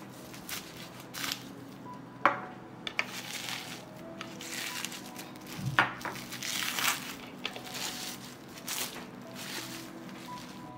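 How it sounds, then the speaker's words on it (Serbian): Frozen meat being unwrapped from its packaging, with crinkling and crumpling plastic rustles, a few sharper crackles and handling knocks spread through the stretch, fairly close and with no one talking. "meso se zamrzlo i sada ću ga otvoriti"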